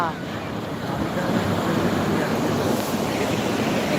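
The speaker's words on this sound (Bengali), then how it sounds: "এখন রাত সেই কারণে অতটা ভালো করে বুঝতে পারছেন না প্রচণ্ড ঢেউ উঠছে" Night surf on Puri sea beach rolls in as a steady, dense roar of breaking ocean waves, with wind buffeting the microphone throughout and no speech.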